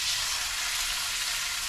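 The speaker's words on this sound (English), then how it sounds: "we're gonna put the steaks on the skillet" Steaks sear steadily in a hot skillet with oil and garlic, giving a loud, even, close-up sizzle with no pause.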